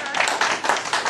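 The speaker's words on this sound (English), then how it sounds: "Give them a big round of applause." A small crowd applauds at a bowling alley after-party, steady overlapping claps with a few louder hits, close by and brief.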